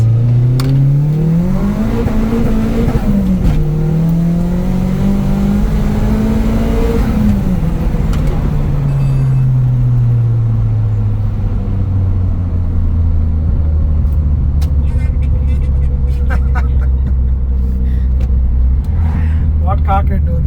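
A 400+ hp turbocharged Mitsubishi Cedia engine revs up and accelerates with a deep, rising roar that shifts through gears, then settles into a lower steady rumble.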